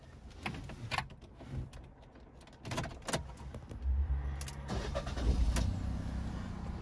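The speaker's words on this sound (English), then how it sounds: "Just turn the engine on now" A 2022 Fiat 500 1.0 mild hybrid starting up: a few clicks and clunks, then the small engine cranks and catches into a low idle hum that builds and holds, heard close from the cabin with no talk.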